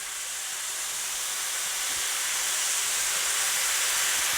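Seafood stock poured into a hot stir-fry pan of searing Brussels sprouts gives a loud, steady rush of steam and sizzle that grows slightly and carries on unbroken with no talk.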